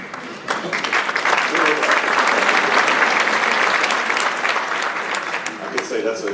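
Loud, full applause rolls through a college commencement crowd, building in the first second and holding steady, with voices mixed into the clapping and a few louder cheers near the end.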